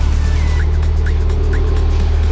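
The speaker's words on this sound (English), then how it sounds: "I'm literally just letting the tires spin just so the gear oil gets moving through it" A Mitsubishi Evo X sits on a lift running steadily in first gear with its wheels spinning free, giving a loud, continuous low engine drone and drivetrain whir with faint periodic chirps, no talking.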